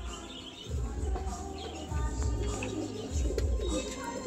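Pigeons kept at home, a mated pair on show, coo in low, repeated rolling phrases, each swelling and fading roughly every second or two, close by, with faint chirps above.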